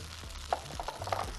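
Rice frying in a pot as carrots and tomatoes are tipped in, with soft sizzling under scattered stirring clicks and light tapping, close and fairly quiet.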